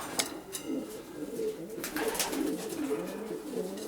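Breeding pigeons coo softly in a loft, repeated low throaty calls close by, with a few light rustles and taps.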